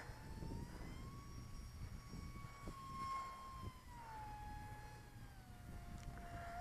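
An E-flite Habu S UMX radio-controlled jet whines overhead, a steady tonal ducted-fan hum that slowly bends in pitch as it passes, with light wind noise underneath and no talking.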